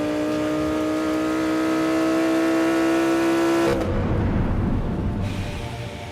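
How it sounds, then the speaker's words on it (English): A Lamborghini Huracán V10 engine revs, climbing to a loud wail for several seconds, then cuts off into a throatier, fading rumble. "And as those revs climb, the jackhammer choir really kicks in."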